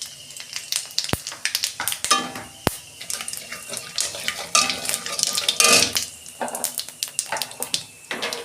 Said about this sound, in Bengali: তেলে আমি ডালচিনি, এলাচ আর লবঙ্গ দিচ্ছি, গোটা জিরে দিচ্ছি